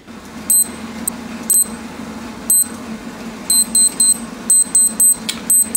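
A wristwatch timer beeps in short, high, repeated electronic chirps, in scattered single and paired beeps and then a faster run near the end, over a low steady background hum.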